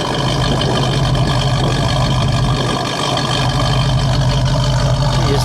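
A 1970 Oldsmobile Toronado GT with a front-wheel-drive 455 cubic-inch V8 idles steadily, a low, even rumble that stays constant and close for the whole stretch with no revving.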